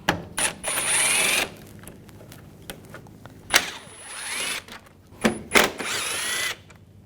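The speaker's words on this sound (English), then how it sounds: "We're going to remove these screws." Power driver with a T30 Torx socket backs out screws on a 2004-2009 Audi A4 during AC condenser replacement, several short whirring bursts with rising pitch separated by quiet pauses, close and moderately loud.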